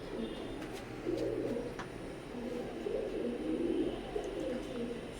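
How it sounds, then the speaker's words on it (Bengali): A pair of imported Saki bloodline Teddy pigeons coo in low, repeated, throaty rolls, steady and close, with light background chirps. "সাকি ব্লাড লাইনের এক জোড়া কবুতর"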